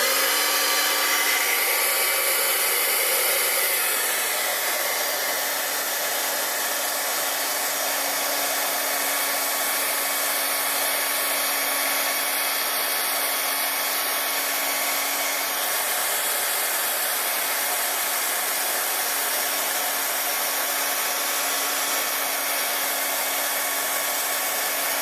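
A heat tool blows steadily as it heat-embosses a Christmas card inked with distress ink, a loud, even hair-dryer-like whoosh with a low hum that runs unbroken for the whole stretch.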